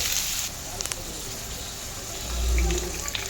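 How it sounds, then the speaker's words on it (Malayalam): Water is poured into tomato chutney cooking in a pan, a short gushing splash that swells briefly amid faint kitchen clinks and a low background hiss. "ആവശ്യത്തിന് വെള്ളം ഒഴിച്ച് കൊടുക്കുക."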